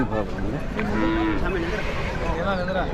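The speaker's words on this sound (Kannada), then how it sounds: "ಕೆಲಸದ ಎತ್ತುಗಳು." A working bullock at a cattle market in Kittur moos in long, droning lowing calls that fill the whole stretch, loud and close, with no talking.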